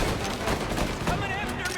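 Gunfire in Mafia Definitive Edition, a rapid crackling volley of repeated shots close by, mixed with shouting voices over the shooting.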